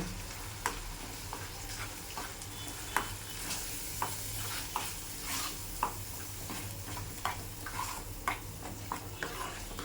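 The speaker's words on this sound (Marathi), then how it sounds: "तर मी हे 3 चमचे वाटण घेते. आपण आता तेलामध्ये परतून घेऊ." Masala paste (ground spice mixture) frying in hot oil for a pomfret curry, giving a steady sizzle with repeated sharp clicks of a spoon stirring against the pan, close and continuous, with no talking.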